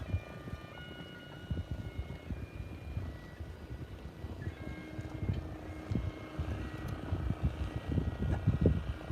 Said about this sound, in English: there's a dinghy going by and that's making it hard to hear